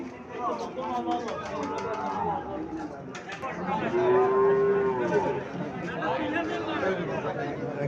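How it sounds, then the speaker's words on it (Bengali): A Sahiwal bull calf lows at a cattle market in Cumilla, several drawn-out moos rising over a busy background of crowd chatter and nearby voices. "এখানে একটা সাইওয়াল সার বাছুর দেখা যাচ্ছে"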